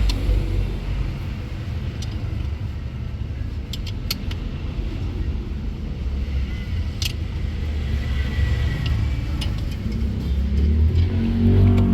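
A Mitsubishi 4D56 diesel engine runs noisily with a steady, low, rough rumble and clattering texture throughout, close by, with faint metallic ticks scattered over the drone.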